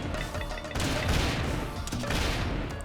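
Rapid bursts of video game gunfire from Turnip Boy Robs a Bank, loud and dense, repeating steadily over a busy layer of game music and effects.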